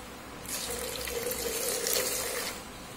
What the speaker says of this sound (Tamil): ஒரு டம்ளர் பாலுக்கு தெளிவாக 2 டம்ளர் தண்ணி ஊற்ற போகிறேன்